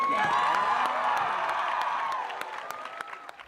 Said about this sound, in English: Please give Mr. Backman one last huge round of applause.